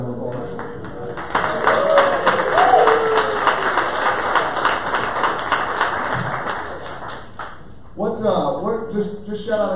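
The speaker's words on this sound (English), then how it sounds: "can you stand up real quick, just so we can give you a round of applause?" At a sales meeting, a room of people breaks into applause, a dense clapping that swells, holds for several seconds and then tapers, with someone talking before it starts and again after it ends.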